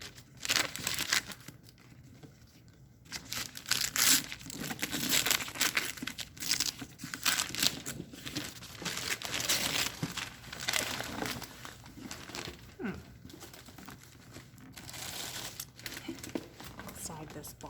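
Tissue paper crinkles and rustles in repeated bursts as a taped gift box is unwrapped, close and fairly faint, with irregular crumpling and occasional tearing sounds over about eighteen seconds.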